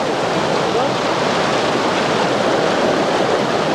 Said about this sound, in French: On est en aval de la cascade Charlemagne qui se trouve à 150 mètres au-dessus de nous.